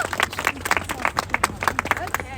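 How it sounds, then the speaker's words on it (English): A small outdoor rally crowd claps for its speakers in scattered, uneven bursts, close by, with people chattering and calling out over the clapping. "Give all of our speakers a round of applause."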